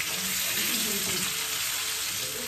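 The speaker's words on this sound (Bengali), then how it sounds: "আলুগুলোকে হালকা করে একটু ফ্রাই করে নিচ্ছি" Potatoes frying in oil for a Bengali alu dom, over a kilo done in batches, give a steady, dense hiss of sizzling that holds even and close for the whole stretch, with no voices.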